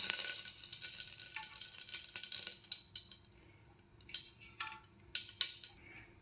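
Oil heats in a pressure cooker with a loud, bright sizzle that fades partway through into scattered crackles and small pops, close and unaccompanied by talk.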